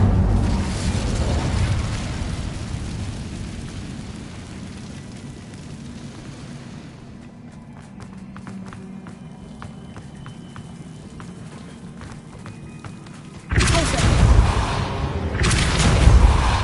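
Incendio fire spell blast in Hogwarts Legacy: a loud roaring whoosh and rumble opens, a quieter stretch with small clattering follows, then a second heavy burst of roaring flame erupts near the end.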